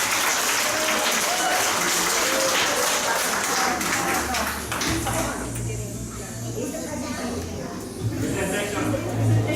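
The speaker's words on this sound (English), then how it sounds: "Please give her a round of applause." Applause at a family clan reunion, a dense steady wash of many hands clapping that stays loud throughout and eases slightly near the end, with voices mixed in underneath.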